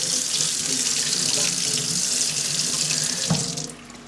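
A steady stream from a sink tap pours while a small model aircraft engine part is rinsed in clean water, a continuous close splashing rush with a brief change near the end.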